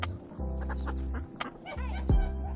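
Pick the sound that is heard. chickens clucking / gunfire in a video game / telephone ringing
chickens clucking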